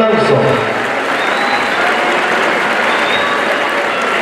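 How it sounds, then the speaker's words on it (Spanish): Loud, dense audience applause at a festive dance celebration in Magdalena Petlacalco, Mexico City, honoring a deceased friend, a steady close wash of many hands clapping without a break. "Fuerte el aplauso."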